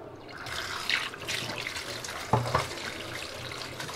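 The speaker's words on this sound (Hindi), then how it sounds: "अब इसको हम इसके ऊपर ठंडा पानी डालेंगे," Cold water pours from a tap over freshly boiled noodles in a kitchen, a continuous splashing trickle with a few louder sloshes and drips, fairly close and without talk.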